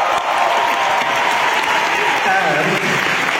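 Loud, dense applause from an audience at a Cannes Film Festival award announcement, a continuous sustained clapping wash with no pauses, close and full.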